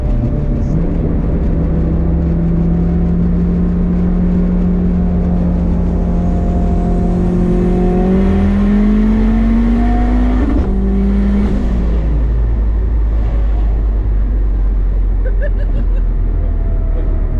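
A 400hp all-wheel-drive Honda holding a brake-boost launch: loud, close engine drone climbing steadily in pitch as it revs, then a sharp shift and drop before fading, heard from inside the cabin.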